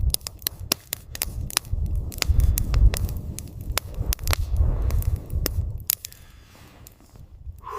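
Wood fire crackling inside a stove in a canvas shelter during a severe winter storm, with sharp irregular pops and snaps over a low rushing wind, steady and fairly quiet, no voices.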